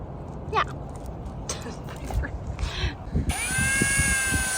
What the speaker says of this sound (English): I'm just going to drill some pilot holes so that these screws hopefully hit their mark